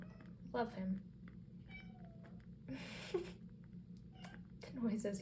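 A pet cat meows several times indoors, short vocal calls spaced across the moment over a low steady background hum.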